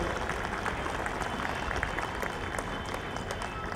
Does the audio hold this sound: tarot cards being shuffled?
no